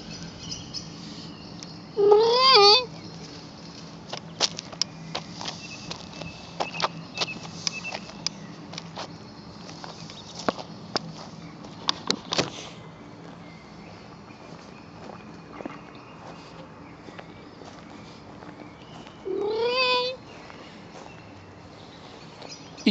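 Two short meows, one early and one near the end, over a quiet background with faint scattered ticks and rustles.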